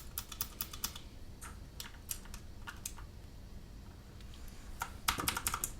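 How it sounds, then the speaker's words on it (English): Quick, crisp clicking of a Mechanical Eagle Z-77 budget gaming keyboard with clicky blue switches, keys tapped in bursts close up with a faint background hiss and a flurry of presses near the end. "You can hear how clicky that is."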